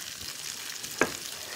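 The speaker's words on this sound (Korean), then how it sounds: "이제 뭐 지글지글 소리가 나죠?" Sausage and vegetables sizzle while being stir-fried in a pan, a constant bright hissing crackle with one sharper pop near the middle, close and steady, with no talking.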